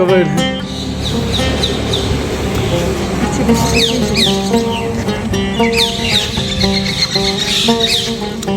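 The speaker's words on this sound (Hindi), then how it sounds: "पक्षियों की चहचहाट जो है वो यहाँ पे बहुत आपको सुनने को मिलेगी।" Birds chirp and call in short bright bursts, continuous and moderately close, at the Bhishma Kund temple tank in Kurukshetra, layered over steady outdoor background noise and possible faint voices.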